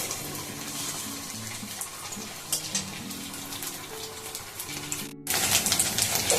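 Steady sizzling of sago fritters frying in hot oil, with a continuous crackling hiss throughout and a brief pause before the sizzle returns louder.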